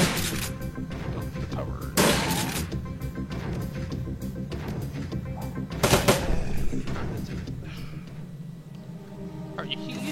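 Shotgun fire in a video game: loud blasts land at about two and six seconds over a constant rumble of game sound effects, with a voice talking through it.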